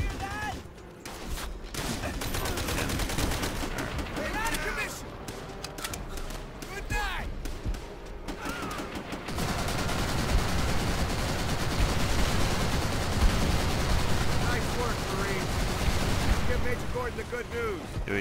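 Dense battlefield gunfire from Call of Duty: World at War, campaign mission 3, with bursts of rifle and machine-gun shots and heavier volleys that swell into a continuous roar, while voices talk over the fighting.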